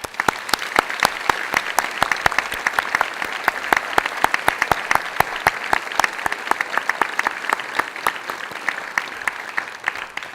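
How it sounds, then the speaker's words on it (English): Closing an evening event on national security, the audience applauds the speakers for about ten seconds, with sharp, distinct individual claps over a sustained wash of clapping. "I'd like you to join me in another round of applause for our amazing speakers."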